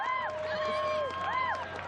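A crowd at the Venice Beach American Ninja Warrior qualifiers cheers a competitor on, a steady wash of shouting and whooping voices with a few high rising calls, continuous and fairly loud.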